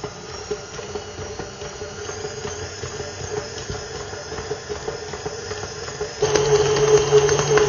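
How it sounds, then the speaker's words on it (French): Pizza dough mixer (pétrin) kneading dough for thick Roman teglia pizza, a continuous motor whir and churning hum that steps up abruptly louder and higher near the end as the speed increases, close and without talk. "je reste en petite vitesse et je viens ajouter un peu d'eau. Et j'augmente progressivement la vitesse de mon pétrin."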